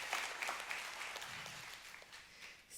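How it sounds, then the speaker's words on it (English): Applause from a church congregation during a sermon, a soft, distant patter of many hands that stays faint and gradually thins out toward the end. "Let's give him an applause."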